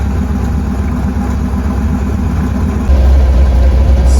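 A 1966 Mustang V8 with a 4-speed runs steadily with a jacked-up wheel spinning, a loud constant low rumble that swells slightly louder near the end.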